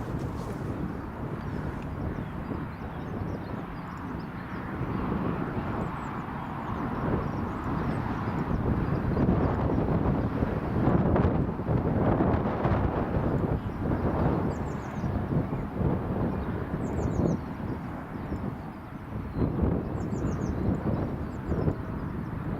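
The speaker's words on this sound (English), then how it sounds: "Is the Loganair Embraer 145 coming from Southampton." A Loganair Embraer 145 jet at Newcastle International Airport during Storm Kathleen, its engine roar blending with heavy, gusty wind buffeting the microphone in a steady, loud wash of noise.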